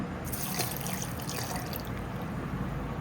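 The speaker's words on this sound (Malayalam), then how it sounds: "നമ്മൾ പാലൊഴിച്ച് കൊടുക്കാം" Steady liquid stream of milk poured into a jar holding milk powder and sugar for a summer drink, close and continuous with a faint splashing hiss.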